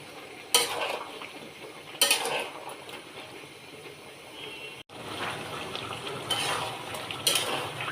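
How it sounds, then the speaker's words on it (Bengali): Bottle gourd sautéing in a pan for a taki fish curry, with a steady low sizzle broken by sharp scrapes and clinks of a spatula stirring against the metal at irregular intervals. "লাউটা কষানো হচ্ছে আরও কিছুক্ষণ কষিয়ে নেব"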